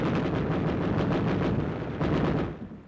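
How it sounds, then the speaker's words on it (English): Wartime gunfire and artillery shelling from 1945 combat footage of troops attacking a Japanese-held hilltop position, a dense continuous roar of rapid shots and blasts throughout, easing slightly near the end. "Shelling Zebra Hill in the final blow to demolish the position."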